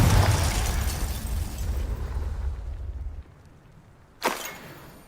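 A Confringo spell explosion in the Hogwarts Legacy video game booms loudly, then trails into a fading rumble, with a second, sharper burst near the end.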